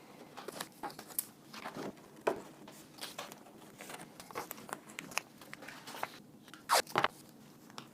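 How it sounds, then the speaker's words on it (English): Tape being pulled and pressed onto a cardboard box corner, crinkly tearing and crunching bursts with irregular rustles, close and moderately quiet, no talking. "And then I'm going to tape the corner here."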